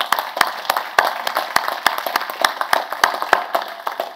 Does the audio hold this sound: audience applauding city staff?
yes